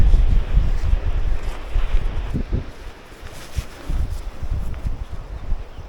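Strong wind on a coastal hike at Flamborough buffets the microphone in rough, low gusts, with a continuous roar that rises and falls throughout.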